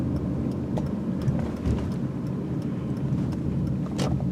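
A car pulling back into a parking lot, with a low, steady engine hum from inside the cabin and small clicks and light knocks scattered over it at a moderate level.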